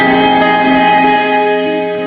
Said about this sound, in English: So we are currently in room mode. The diffusion is set on high, so you're hearing a lot of the smearing of the guitar tones.